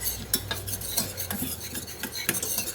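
Flour being stirred into melted butter in a pan to make a roux for a fish sauce, a steady close scraping and rubbing of a utensil against the pan with soft sizzle underneath, no voices.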